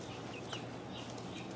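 Chickens in a backyard chicken run cluck faintly in a few short calls scattered over a steady outdoor hiss.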